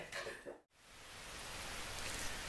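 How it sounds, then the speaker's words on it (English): Fairly hard rain falls on an overcast day, a steady broadband hiss that swells after a brief dropout and holds even and moderately loud to the end. "started raining fairly hard"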